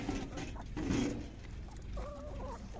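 Chickens cluck in a rural farmyard in the morning, a steady chorus of close, busy clucks and short chirps over background farm noise.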